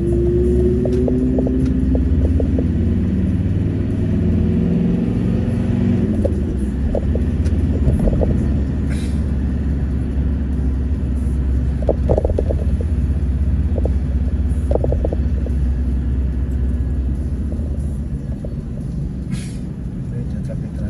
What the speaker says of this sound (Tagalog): Medyo traffic na yan.